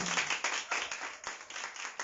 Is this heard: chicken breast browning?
no